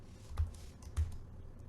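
A few faint, soft keystrokes on a computer keyboard tap out in a sparse, uneven rhythm against quiet room hiss.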